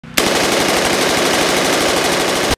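Sustained rapid automatic gunfire, a loud continuous burst of evenly spaced shots lasting a couple of seconds before cutting off abruptly.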